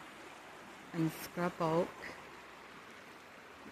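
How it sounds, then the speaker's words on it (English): A babbling brook in a canyon forest gives a soft, steady watery hiss that runs throughout, faint and constant, while a person says a few words briefly over it. "Look at the babbling brook."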